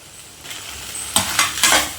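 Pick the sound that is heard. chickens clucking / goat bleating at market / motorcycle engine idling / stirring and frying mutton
stirring and frying mutton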